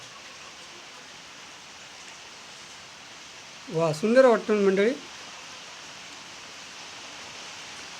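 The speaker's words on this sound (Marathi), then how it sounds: "बाहेर पाऊस लागतो आहे" Steady, even hiss of rain falling throughout, with a brief burst of talking partway through.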